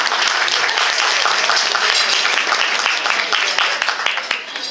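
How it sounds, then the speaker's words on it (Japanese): Applause from a school audience at a send-off rally for a junior high team, rewarding a correct answer: dense, steady clapping from many hands filling the room, loud and sustained before tapering slightly at the end. "正解の拍手をお願いします"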